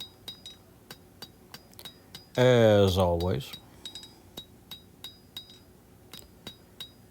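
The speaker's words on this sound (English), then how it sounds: "Got the big hammer out." A big forging hammer strikes hot steel at a forge while a point is drawn out, the blows landing as a steady series of sharp, ringing clinks throughout, with a short stretch of talk in the middle.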